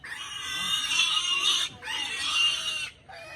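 Piglets for sale at a rural market day in Tủa Chùa, Vietnam, squeal and oink in two long, loud, shrill bursts close by, separated by short pauses.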